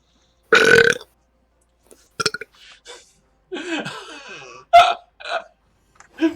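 Several loud burps from a person, separated by short pauses, with other throaty vocal noises and a brief laugh-like sound in between.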